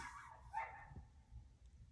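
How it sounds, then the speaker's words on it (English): Faint, distant dog barks from next door, a couple of short yelps from some way off against a quiet background. "dogs are going crazy next door."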